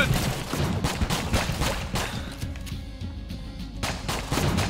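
Rapid, dense gunfire rattles continuously in Enter the Gungeon, loud and close. Shots come in fast, steady volleys with a brief thinner lull midway before the firing resumes at full intensity.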